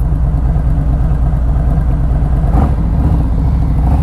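A tuned 2020 Harley-Davidson Electra Glide V-twin idles steadily close by, a low, even, loping rumble with a brief mechanical tick partway through and no talking.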